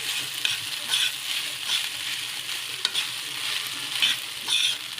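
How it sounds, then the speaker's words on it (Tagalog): Fried rice sizzles in a hot pan while being stirred, a steady crackling hiss broken by repeated scraping strokes of the spatula, close up with no talking. "hapit na maluto ang ato ang fried rice"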